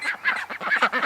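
Ducks quack and honk close by in a rapid, overlapping run of nasal calls, loud and continuous for about a second.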